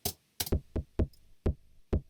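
A layered techno kick drum plays alone with its low layer muted, thin and knocking, with a quick double hit then evenly spaced single beats, lacking deep bass weight.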